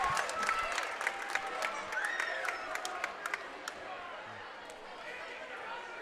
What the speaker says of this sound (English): The Millard South student section is hype right now. Crowd is on their feet.